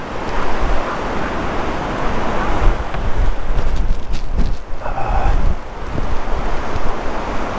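Strong, gusty wind at a beach in Zoutelande during paragliding, roaring loudly and continuously against the microphone with heavy buffeting.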